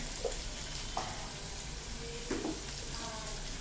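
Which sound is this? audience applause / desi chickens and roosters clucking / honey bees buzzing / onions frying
onions frying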